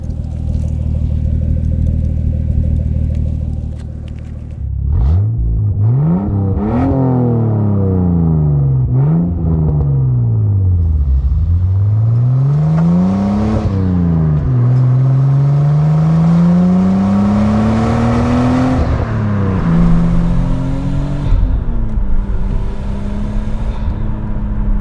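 A Nissan R34 Skyline GTT engine, close and loud, settles into a steady idle, then gives a run of repeated revs that climb and fall before it drops back to a rough, even idle.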